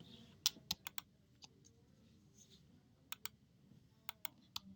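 Sparse computer mouse clicks sound close and faint over a quiet room, arriving in small irregular bursts with pauses between them.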